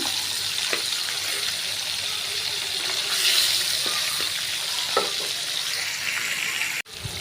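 Small fish full of roe fry lightly in a pan, giving a steady, even sizzle throughout, with a few soft clinks and a sharp knock near the end.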